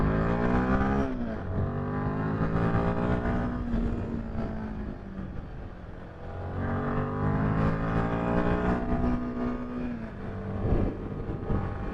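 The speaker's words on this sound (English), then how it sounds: "don't get taken out by the massive truck" A massive truck rumbles past on a Himalayan mountain road, its engine droning loud and close, swelling and fading in two long passes with no talking.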